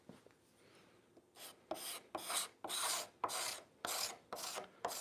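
Card scraper drawn over figured wood in a run of about nine sharp rasping strokes, close and loud, each one a short burst with small gaps between, after a quiet start.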